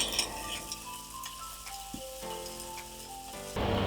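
A burger patty topped with cheddar cheese sizzles on a grill, a soft steady frying hiss with faint ticking and a louder burst near the end; no one speaks.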